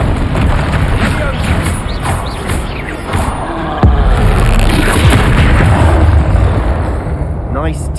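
Magical Bombarda and Confringo explosions in Hogwarts Legacy rumble loudly and continuously in a heavy booming wash during a troll fight, with a voice calling out spells over it.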